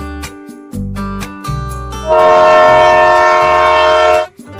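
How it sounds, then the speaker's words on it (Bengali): A train travels a railway line through green hills, river valleys and rainforest, heard close and loud, with a few heavy rhythmic rumbles followed by a long, sustained blast of the horn. "সবুজ পাহাড় নদী আর উপত্যকার মাঝে দিয়ে চলে এই ট্রেন"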